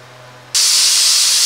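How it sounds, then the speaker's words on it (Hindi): A pressure cooker whistle on a kitchen stove suddenly lets go, loud hissing steam that bursts in after a quiet moment and keeps blasting steadily. "देखिए कुकर मेरा सीटी मार चुका है"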